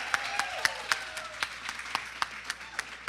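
Audience applause at an economics research talk, scattered claps spread through a room with a few sharp individual claps standing out, moderately faint and fading gradually, with some faint tonal sound over it early on.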